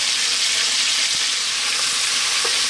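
A boneless leg of lamb sears in a hot pan for a South Indian lamb curry, producing a loud, continuous, close sizzle with occasional soft stirring sounds.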